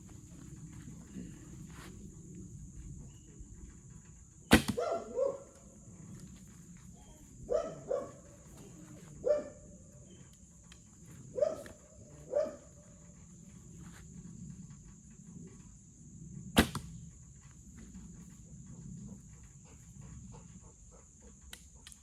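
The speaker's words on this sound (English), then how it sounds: "we'll shoot these 3 arrows and we'll look at them" Three arrows loosed from a traditional bow during bareshaft tuning outdoors, each release a sharp near thump with a short twang, spaced a few seconds apart over a steady insect and cricket drone.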